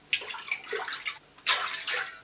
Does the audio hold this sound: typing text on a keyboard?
no